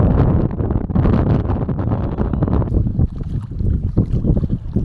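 Strong wind on an island shore buffets the microphone in steady, rumbling gusts, with a roaring, blustery texture and no voices.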